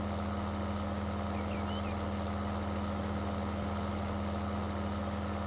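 A John Deere 9470 RX tracked tractor engine idles in Farming Simulator 19, giving a steady, continuous low drone with a constant hum that holds evenly throughout, with no voices over it.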